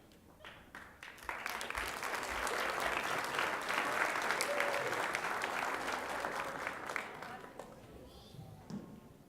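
An audience at a school board meeting applauds school band musicians, a sustained round of clapping that swells, holds steadily, then tapers off into scattered claps.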